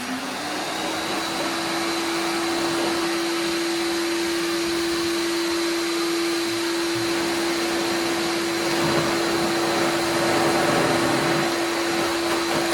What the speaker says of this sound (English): Now let's go to the blow option.